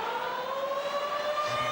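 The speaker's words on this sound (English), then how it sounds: "And the siren is about to end this first 10-minute segment." A loud, sustained siren blares over a rugby league stadium crowd to end the first ten-minute extra-time period of a 1994 major semi-final, a steady wailing tone held throughout with no commentary audible.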